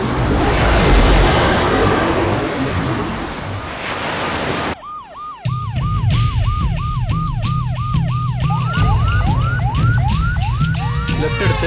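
An ambulance siren wails in a repeating up-and-down pattern after a loud stretch of rushing noise that breaks off abruptly. The siren is loud and close, and its cycles quicken toward the end, with no speech.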